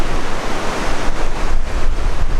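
Surf washing onto Tanjung Aru Beach in Sabah, a steady broadband wash of breaking waves with swells every half second or so, fairly loud and close, mixed with some wind and no voices.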